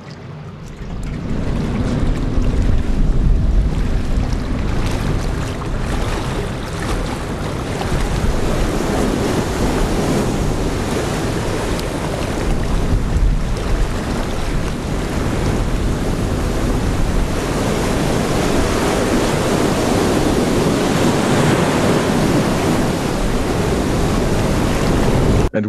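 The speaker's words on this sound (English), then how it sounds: "this multi-layered water sound kind of changes." Layered ocean waves and surf from a ship-based video game, a steady loud wash of water with wind-like noise rolling continuously, swelling slightly in places, with no voices.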